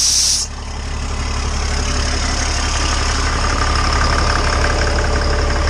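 An LMTV truck engine idles loudly and steadily while its newly swapped air compressor hums and builds pressure beneath it, following a brief hiss of air at the start.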